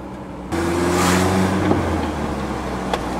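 TRX engine revving loudly and steadily while the driver struggles to force the gearbox into gear, a sustained drone with a brief clunk near the end.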